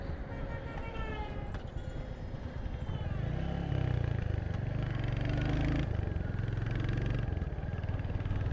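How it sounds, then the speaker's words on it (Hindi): A 2025 Royal Enfield Hunter 350 single-cylinder motorcycle with OBD2B compliance, downshifting while riding: a loud, close engine thump whose pitch changes as revs rise after the shift, with someone speaking over it. "और अभी एक बार डाउन शिफ्ट करता हूँ।"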